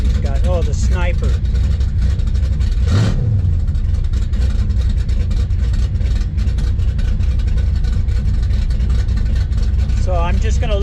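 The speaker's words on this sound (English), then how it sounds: "Boy, this LS engine setup is awesome." A Chevrolet El Camino fitted with an LS engine and a Holley Sniper injection setup idles steadily and loudly up close, a constant low rumble with a brief rev near the start and chirpy squeaks over it.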